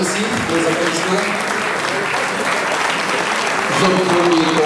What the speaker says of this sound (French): Alors merci pour les applaudissements.